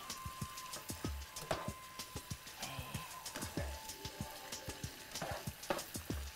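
Shrimp and vegetables stir-frying in a pan for an Asian-style spaghettini, a steady crackling sizzle with scattered pops and light utensil knocks throughout.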